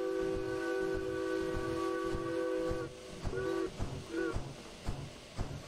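A steam locomotive in Derail Valley blows a loud, steady whistle-like hiss for about three seconds, then gives several shorter bursts between chuffing thumps as the engine works to start moving.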